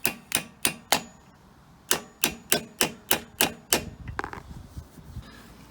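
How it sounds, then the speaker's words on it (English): A hammer strikes a punch to drive a spring-loaded foot peg pin into a Yamaha WR250, with two runs of sharp metallic taps, four and then six, evenly spaced, followed by faint scraping handling noise. "So you can use a punch. I'm just using an extension just to kind of get down on there. Get a little bit better swing with the hammer"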